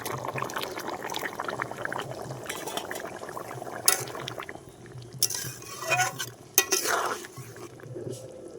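Vegetables added into a simmering fish curry broth of sol fish, bubbling and liquid stirring sounds with a few sharp splashes and scrapes of the spoon, close and fairly quiet.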